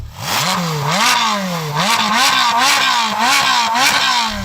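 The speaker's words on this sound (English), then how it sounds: "Go on, Andy, rev up your Speciale." A Ferrari 458 Speciale with a flat-plane-crank V8 revs loudly and close, climbing and dropping in repeated sharp blips with a rising, rasping engine note, with no talk over it.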